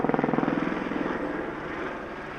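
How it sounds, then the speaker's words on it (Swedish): A helicopter approaches over a snowy winter ski area in Sweden, its rotor thumping in fast regular pulses that blur into a sustained engine drone as it draws nearer. "hör Lennart hur en helikopter kommer närmre och närmre"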